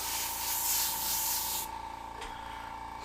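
An airbrush sprays paint in a soft, steady hiss that cuts off partway through, followed by a short puff and a quieter airy tail.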